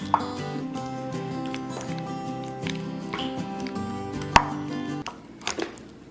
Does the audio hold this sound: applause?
no